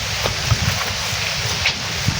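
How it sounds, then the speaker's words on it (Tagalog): Wind buffets the microphone outdoors with a rough, steady rush and occasional soft thumps, no voices. "Pero ngayon at least mahangin-hangin."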